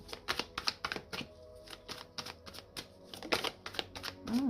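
Tarot cards cut and shuffled by hand, giving a close, rapid run of crisp riffling snaps and flutters in irregular bursts with short pauses between them.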